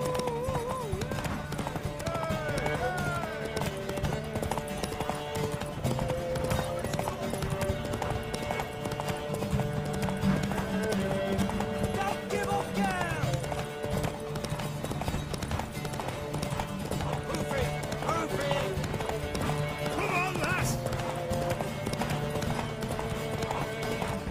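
Steady clip-clop of horse hooves runs throughout, mixed with continuous game music and sound effects in The Witcher 3: Wild Hunt; no clear talk.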